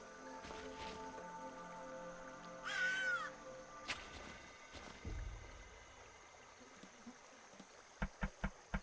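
A crow caws in the adventure game The Night of the Rabbit, one short rasping call standing out amid soft game ambience, followed by scattered wet squishy effects and a quick run of sharp taps near the end.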